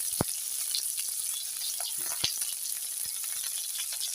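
Tomato, ginger and garlic frying in a pan give a steady, close sizzle, with a few sharp pops and a light stirring scrape now and then.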